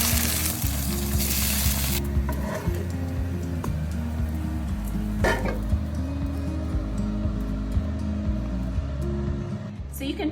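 Salmon feta burgers sizzle and crackle steadily in a hot pan, a dense frying hiss with a burst of louder spitting at the start and brief scraping moments, while a voice talks over it.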